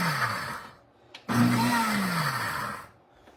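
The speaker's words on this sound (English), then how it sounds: "I need to turn my blender on. Pull this down so you can look at it. And we're just gonna use the pulse function." A kitchen blender whirs in short pulses while blending Peruvian green sauce; the motor spins up, cuts out briefly, then roars again for a longer burst, with its pitch sliding as it runs.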